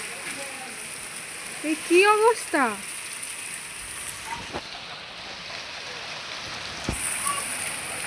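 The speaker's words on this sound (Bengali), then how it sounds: "কি পরিমাণে শিলাবৃষ্টি হচ্ছে দেখো আমার দরজার সামনে" Heavy hail pelting down right outside a house door, a dense, steady hiss and patter that continues the whole time, while a voice speaks briefly near the start.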